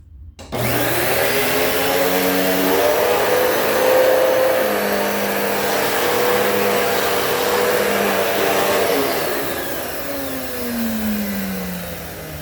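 A vintage Hoover vacuum cleaner starts up and runs very loudly and steadily close by, with a strong motor whine that shifts in pitch partway through and then drops slightly as it winds on.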